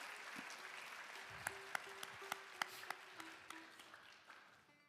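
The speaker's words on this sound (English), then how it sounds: "Let's give her another round of applause." An audience in a hall applauds a dancer at a dance debut, with steady, dense clapping that fades toward the end and a few louder individual claps standing out.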